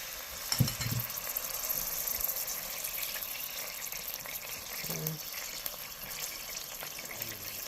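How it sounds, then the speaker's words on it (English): A splash of water hitting hot oil with frying garlic in a pan, a steady close sizzle and hiss with a brief splash early on. "So our garlic doesn't burn, we're just going to come in with a little water"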